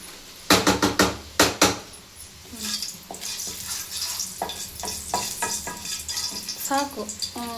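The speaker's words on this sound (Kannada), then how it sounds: "ಡ್ರೈ ರೋಸ್ಟ್ ಮಾಡ್ಕೊಬೇಕು ಮೆಂತ್ಯ ಕಾಳು" Fenugreek seeds dry roasting in a pan over a low flame, starting with several sharp metallic stirring knocks, then a continuous soft sizzle with light scraping stirs.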